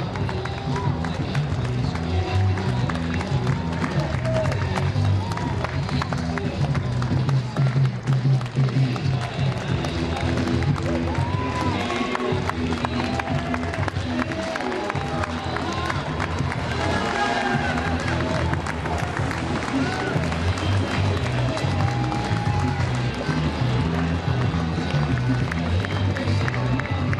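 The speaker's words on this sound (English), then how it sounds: "applause" Crowd noise at a 5K bridge run in Los Angeles, with steady applause and cheering from spectators alongside a continuous murmur of voices and footsteps, sustained throughout.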